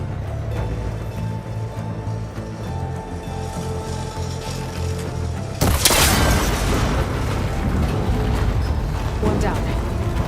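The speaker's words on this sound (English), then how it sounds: "It should break if I shoot it." In Horizon Forbidden West, an arrow strikes and breaks a machine cable connector. A sudden loud, booming burst cuts through a steady low game ambience midway and is followed by a rumbling, crackling tail.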